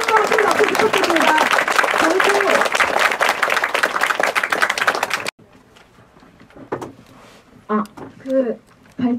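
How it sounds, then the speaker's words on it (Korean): A crowd claps loudly and densely at a public debate forum on the Hong Kong protests, the applause cutting off abruptly midway and giving way to a quieter stretch with a few voices and scattered sounds. "큰 용기내서 발언해주시는 분께 다시 한번 큰 박수 부탁드립니다"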